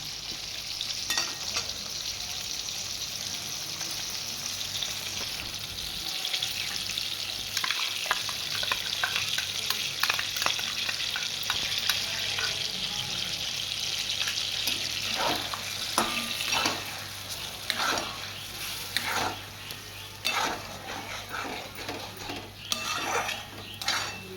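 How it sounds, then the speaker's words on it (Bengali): Fried pointed gourd sizzles close up in a pan as a mustard, poppy seed and green chili paste is added, a steady frying hiss broken by repeated scraping and stirring clinks of a utensil, with no talking. "এবার আমি এর মধ্যে সর্ষে আর পোস্ত কাঁচা লঙ্কাটা যে পেস্ট করেছি আমি দিয়ে দিচ্ছি"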